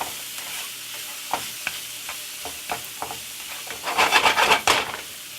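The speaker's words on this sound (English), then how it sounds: "I'm going to give it a stir" A spoon stirs lasagna filling in a pan over quiet frying, giving a run of separate scraping strokes that turn into a quick, louder burst of scrapes near the end, with no talking.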